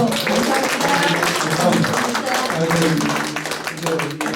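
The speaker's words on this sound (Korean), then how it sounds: "다 함께 오늘의 이 국제 컨퍼런스를 마치는 의미로 큰 박수를 한번 보내주십시오" Closing applause from an audience at the 4th Northeast Asia Peace International Conference: steady, dense clapping over about four seconds, mixed with tonal voices or music in the background.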